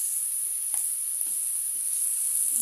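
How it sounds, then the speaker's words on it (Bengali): Onions and garlic fry in a pan as a fish curry is cooked, a steady soft sizzle and hiss with a few faint pops and stirring scrapes, quiet and close. "পেঁয়াজ রসুনগুলো দিয়ে ভেজে নেব"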